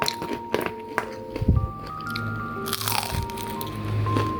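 Crispy fried food coated in plain flour breaks apart in a string of close, sharp crunches and cracks that arrive in short bursts amid quieter handling noise.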